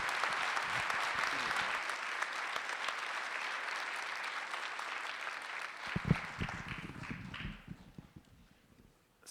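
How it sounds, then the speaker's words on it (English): Sustained applause from an audience at a school board meeting honoring character award recipients and volunteers, steady clapping that thins out and fades near the end, with a few louder scattered claps and shuffling. "Let's give all of our character counts recipients and volunteers another round of applause."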